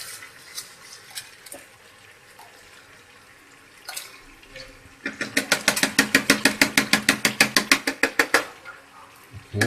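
Dry rice poured into a pot of boiling water while making chicken biryani, a rapid rattling patter of grains that swells loudly after quieter kitchen clatter and bubbling.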